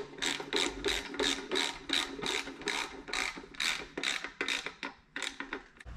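A hand ratchet tightens bolts on a Ford 460 serpentine bracket mock-up, giving a quiet, close run of rapid clicking strokes in a steady back-and-forth rhythm with short pauses.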